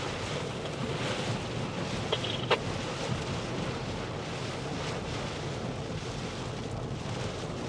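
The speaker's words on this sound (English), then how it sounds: "Pretty gusty winds dropping around." Gusty wind during a Midwest storm chase roars steadily against the microphone as a dense, continuous rush with a couple of faint knocks, loud and unbroken throughout.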